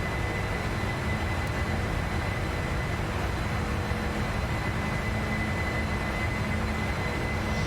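Steady, loud cockpit engine roar of a PMDG Boeing 747 climbing after takeoff in Prepar3D, a constant broadband rumble with a faint high whine and no speech.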